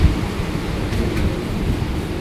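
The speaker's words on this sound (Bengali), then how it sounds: "আমাদের ট্রেন তার যাত্রা শুরু করে দিয়েছে।" A Kolkata local train pulls away from Majerhat station, giving a low continuous rumble and rattle of the moving carriages heard from inside.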